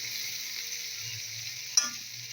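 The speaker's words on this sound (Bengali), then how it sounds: "এটা হচ্ছে পেঁয়াজ কালিয়া আর আলু ভাজা। অলরেডি বসিয়ে দিয়েছি, অর্ধেক ভাজা হয়েও গেছে।" Potatoes for aloo bhaja frying in a pan, a steady close sizzling hiss with a low bubbling undertone and one brief clack partway through.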